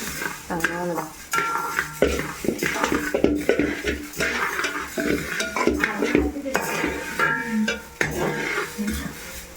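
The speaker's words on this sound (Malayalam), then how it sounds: "ഉഴുന്നും ഏകദേശം വറുത്ത് റെഡി ആയിട്ടുണ്ട്" Urad dal roasts in a pan as it is stirred, with busy scraping and rattling of a utensil against the metal, loud and close, continuous with brief pauses over a faint sizzle.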